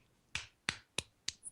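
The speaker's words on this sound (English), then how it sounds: "What's that clapping noise?" A few sharp claps, four evenly spaced hits close by, then an abrupt final smack, in an otherwise quiet room.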